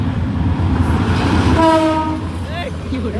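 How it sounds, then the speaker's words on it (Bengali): A train rumbles past nearby, then sounds a long, loud horn blast; a voice briefly calls out near the end. "আর সামনে ট্রেন আসতেছে"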